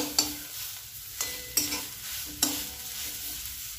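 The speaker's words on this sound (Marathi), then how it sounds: "या पद्धतीने आपल्याला लाल मिरची पावडर यामध्ये व्यवस्थित अशी मिक्स झाली पाहिजे।" Bamboo shoots tossed with red chili powder are stirred in a pan, with four sharp scraping clinks of the spoon against the metal over a soft sizzle and no talk.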